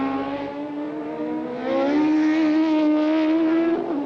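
Formula 1 race cars at the 1983 French Grand Prix, a loud high-pitched engine whine that climbs in pitch as the cars accelerate, sustained and close throughout with no talk.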